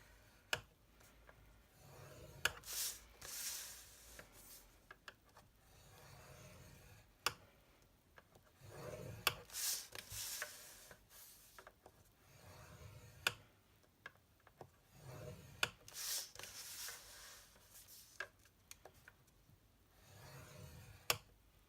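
Stampin' Up! cardstock being scored at 1.5 inches on all four sides for a paper box, giving a quiet series of sharp ticks and soft scraping strokes spaced every couple of seconds, with no talking.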